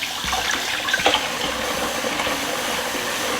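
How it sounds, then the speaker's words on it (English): Cool tap water runs steadily over broccoli being rinsed, a continuous close splashing rush with small knocks and shifts as the florets are turned in the stream. "So I take my broccoli, of course, rinse it off in some cool water."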